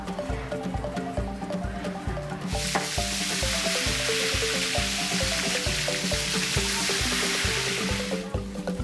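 Food deep-frying in hot oil at a market stall in Laplae, a steady loud sizzle that swells in and holds over rhythmic music.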